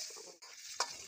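Carrots are stirred as they fry in a pan, giving a soft, close sizzle, a brief scrape of the utensil, and a sharper clink near the end.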